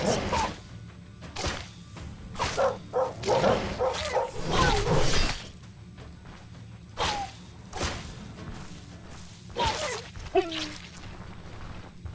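Stray dogs in the video game Stoneshard give short, sharp barks and yips in scattered bursts over thuds and background game noise, fairly close and moderately loud.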